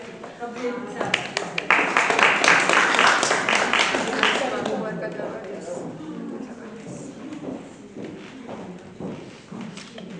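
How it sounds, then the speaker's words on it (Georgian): An audience applauds to welcome Gabriel Orbedadze, a dense burst of clapping for a few seconds that fades as a voice takes over and keeps talking. "ცოტა ხიარულად და ხიარული ტაშით მივესალმოთ გაბრიელ ორბედაძე"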